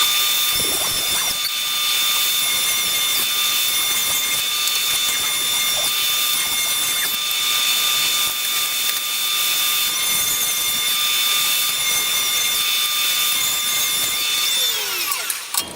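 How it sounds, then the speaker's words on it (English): A shop suction system's motors, started by remote control, run as a steady, loud high-pitched whine and whoosh with constant tones, nearly unchanged for about fifteen seconds before cutting off at the end. "I got a remote control for the suction system. I hit it down there, and the motors upstairs start running."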